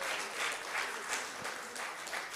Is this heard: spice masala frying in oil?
no